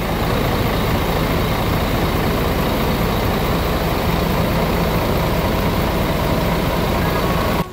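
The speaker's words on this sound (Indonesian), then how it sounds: "Dan seperti inilah bunyi khas mesin dari Mercedes-Benz" A Mercedes-Benz O500 RSD 2445 bus with a Patriot El Grande body idles close by, giving a loud, steady, rumbling diesel drone that holds constant throughout and cuts off at the very end.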